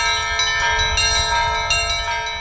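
Church bells ring continuously from a bell tower, loud and resonant, with repeated strikes layering into a rich, sustained metallic chime.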